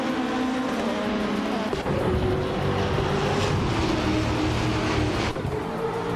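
Race cars, including a 2021 Ford Mustang, launch from the start at the Nürburgring Sprint Short Track in a racing video game, with a loud, continuous roar of several engines and pitch climbing as they accelerate.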